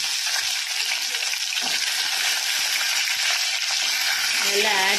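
Finely chopped onions sizzle steadily in hot oil while being stirred in a pan, a constant loud frying hiss with a voice faintly at the end.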